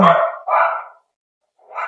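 A dog being walked nearby barks three times, sharp and close: two quick barks, a short silence, then one more.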